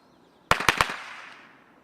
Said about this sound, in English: this is to demonstrate what a firecracker would do to a human eye if it were to detonate in here